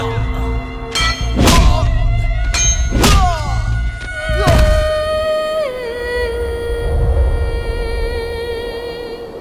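Heavy thuds and thwacking blows land in quick succession during a staged fight in an Indian action film, loud and punchy with sharp impact peaks, backed by dramatic score swells between hits.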